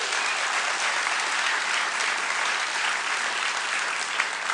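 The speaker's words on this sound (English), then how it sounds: "if you want to give him a round of applause, you can" A crowd at a J-98 Spring Dream Team event applauds the program director, a steady, dense wash of clapping that holds evenly throughout with no voices over it.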